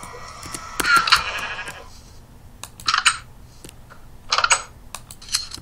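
Sheep bleat in the Minecraft video game, a few short bursts at intervals mixed with quick computer keyboard typing and clicks, with no talking over them.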